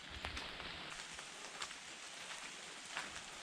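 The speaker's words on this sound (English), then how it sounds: "Bit of rain never hurt anybody" Steady rain falls in an outdoor graveyard before dawn, a dense continuous hiss of drops with occasional louder patters, no voices.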